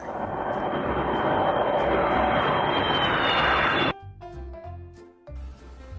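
A loud airplane engine roars steadily for several seconds, then cuts off abruptly and a soft tinkling melody takes over.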